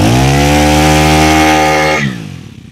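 A Kubota four-stroke lawn mower engine runs smoothly and loudly at a steady pitch, close by, then dies away as it is switched off near the end.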